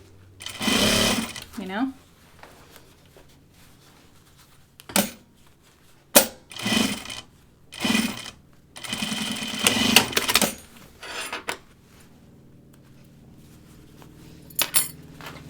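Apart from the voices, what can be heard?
sewing machine stitching a jacket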